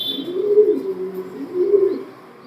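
Two low, soft coos from racing pigeons, one after the other, close by against a quiet background.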